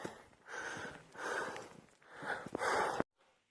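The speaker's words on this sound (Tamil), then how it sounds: "பயங்கரமாக மூச்சு வாங்குது" Heavy, rhythmic panting from a hiker climbing toward the fifth hill on a cold mountain trek at Velliangiri, several loud breaths in quick succession close to the mic, then a sudden drop to near silence.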